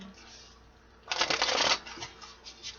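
A deck of tarot cards shuffled by hand, one brisk riffling burst in the middle with softer card handling before and after, close and clear, with a quiet voice nearby.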